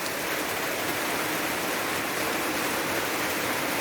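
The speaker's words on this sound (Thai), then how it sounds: "ฝนตกเนาะ ฝนตก" Steady rain falling in a rural Thai setting during the monsoon season, a continuous dense hiss with no distinct drops, close and fairly loud throughout, no voices.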